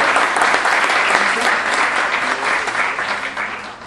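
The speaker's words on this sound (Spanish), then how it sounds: "a quien también le pedimos un fuerte aplauso" Loud, sustained applause from a seated audience greeting a panel guest at an academic legal talk, a dense even clatter of hands lasting the whole moment and tapering slightly at the end.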